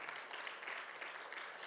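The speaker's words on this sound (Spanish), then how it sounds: "le da un fuerte aplauso al Señor" Applause from a church congregation during a Spanish-language sermon, a dense steady wash of clapping with no break, heard fairly faint and at a distance.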